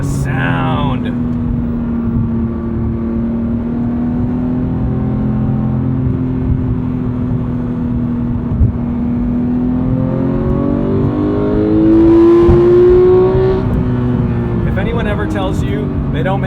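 Close, steady in-cabin drone of a manual 991.2 Porsche GT3 engine under load on a test drive, holding a constant tone then swelling as it revs harder near the end, with a person talking over it.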